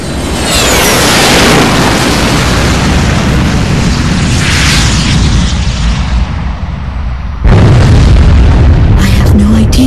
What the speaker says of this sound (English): Was that a blast of wind from an explosion?